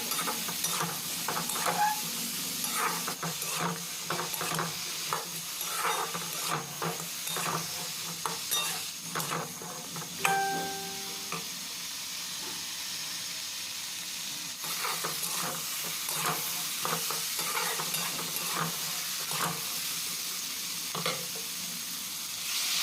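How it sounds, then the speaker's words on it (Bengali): Potatoes and eggplant fry together in a pan for a bitter gourd and potato curry, a continuous loud sizzle broken by repeated spatula scrapes and stirring strokes, with one brief ringing clink of metal midway. "আলু বেগুন একসঙ্গে দিয়ে দু থেকে তিন মিনিট ভালো করে এটাকে নাড়াচাড়া করে নিতে হবে"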